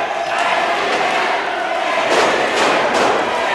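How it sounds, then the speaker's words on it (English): Loud, dense crowd noise fills an independent wrestling show at EMERGE, a steady roar of cheers and shouts with a few sharper swells near the end and voices mixed throughout. "Listen to this crowd."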